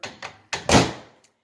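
A microwave door being shut by hand in a kitchen: two light knocks, then a firmer close-up thump with a brief rattle and a small click at the end.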